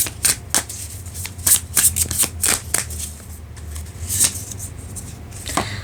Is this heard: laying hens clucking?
no